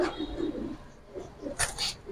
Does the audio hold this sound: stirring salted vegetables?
no